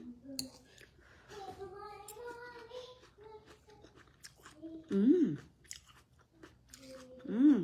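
Someone chews a bite of an egg and pechay dish, producing soft, close, irregular mouth sounds under casual talk and brief vocal noises.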